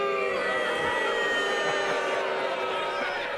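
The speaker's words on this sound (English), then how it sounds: "Such a hockey crowd, I love it." A hockey-style crowd at a wrestling event in Nat Bailey Stadium roars with sustained cheering and whooping, a dense, even wash of many voices that holds steady for a few seconds.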